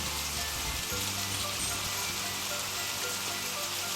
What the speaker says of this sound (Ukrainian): Послухайте, будь ласка, як шумить дощик.